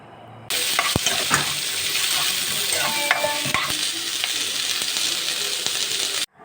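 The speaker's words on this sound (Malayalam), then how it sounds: "ഒരു സവോള, ക്യാപ്സിക്കത്തിൻ്റെ പകുതി, ഒരു 2 പച്ചമുളക് ഇതെല്ലാം കൂടി ഒന്നിട്ട് വഴറ്റിയെടുക്കണം" Chopped onion, half a capsicum and green chilies sauté with ginger and garlic in hot oil, a steady close sizzle broken by sharp clinks and scrapes of a spoon stirring against the pan.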